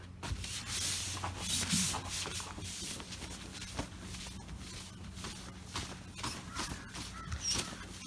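Cloth towel rubbing lightly over freshly clear-coated paint on a 1966 Dodge Dart GT, a steady close swishing scrub with soft repeated strokes and no talking.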